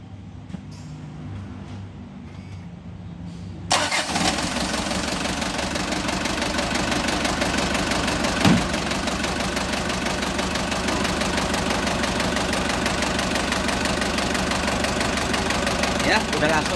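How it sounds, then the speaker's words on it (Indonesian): A motorcycle engine with a leaking exhaust fires up after a few quiet seconds and settles into a loud, steady idle with a rough, knocking, slightly robotic rattle that runs unbroken to the end. "Ini knalpotnya bocor tuh, suaranya agak merobot."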